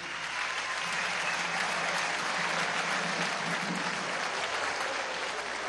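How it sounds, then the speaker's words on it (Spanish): A crowd at a political rally in Venezuela bursts into steady, dense applause that holds evenly loud throughout, with no voices standing out. "Un aplauso."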